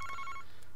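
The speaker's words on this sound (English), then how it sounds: "And the phone's ringing." A telephone rings in the Famicom Detective Club video game, a short electronic trill in the first half second before cutting off into a quiet background hum.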